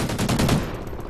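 A quick burst of rapid gunfire in a first-person shooter match, several close, sharp shots in fast succession over about a second, with no voices.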